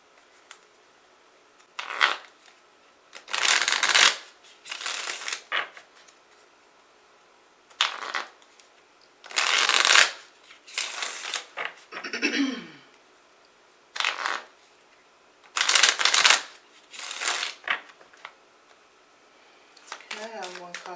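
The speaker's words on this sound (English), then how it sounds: "Now I'm going to shuffle another deck to get clarifiers for the two cards." A deck of oracle or tarot cards is shuffled in about a dozen short, crisp riffling bursts, separated by brief quiet pauses, recorded up close.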